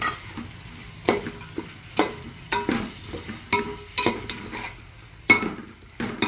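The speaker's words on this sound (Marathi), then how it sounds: "आता याच्यामध्ये हे दही टाकायचं, हे पण हलवून घ्यायचं।" Yogurt is stirred into veg pulao in a hot pan, with a spoon scraping and knocking against the metal in irregular strokes about once a second over a low, steady sizzle, close up and with no talking.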